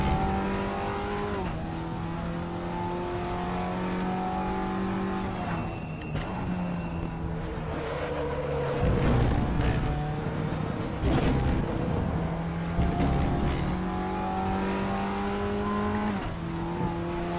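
An Audi TT Cup 2016 race car at full throttle on RaceRoom Raceway National, its engine note climbing in pitch through repeated gear changes, loud and close with no talk.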